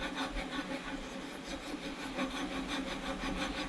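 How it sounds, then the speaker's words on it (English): Steady, close rasping strokes of a small key file on a steel brake caliper bracket from a Ford F150's rear brakes, a continuous scratchy rubbing with even rhythm and no talking. "I'm just finishing this up with my little key file"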